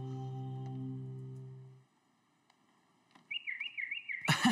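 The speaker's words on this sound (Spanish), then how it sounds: "¿Qué es todo ese pío-pío que hay aquí?" Cartoon birds in an animated zoo break into a short, warbling chirp near the end, following a steady held tone and a quiet pause.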